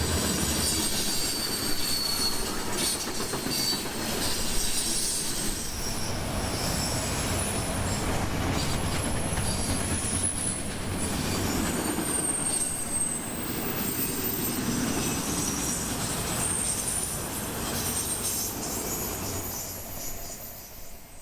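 A freight train rolls past at night on a Central Florida rail line, a steady loud rumble of railcars with squealing wheels and rhythmic clicking over the rails, continuous throughout with no talk.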